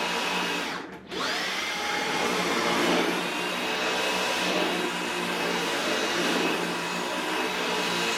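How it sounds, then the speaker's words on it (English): A Roborock H6 cordless stick vacuum cleaner runs steadily with a high-pitched motor whine, briefly dipping near the start, then continuing at an even, moderate level. "the vacuum is pretty light on the arm as I'm using it"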